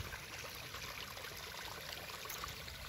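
A stream rushes steadily after Typhoon Carina, a continuous, even wash of flowing water close by with no break and no voices.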